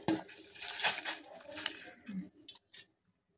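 Rice goes into a boiling pot for payasa: a quick run of light clinks and clattering rattles against metal, dense at first and thinning to a few last taps before quiet.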